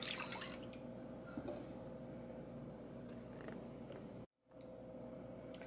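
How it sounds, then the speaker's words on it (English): Plant-based milk is poured into cookie batter as wet ingredients go in, giving soft, faint dripping and liquid trickling sounds under a steady low room hum, close by with no speech. "I'm going to go ahead and add the milk first"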